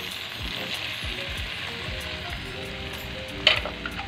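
Spiced okra added to a hot pan with golden ginger-garlic paste, sizzling and frying steadily while a spoon stirs and scrapes, close, with one sharper clink near the end.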